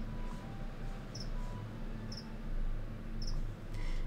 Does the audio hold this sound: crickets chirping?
yes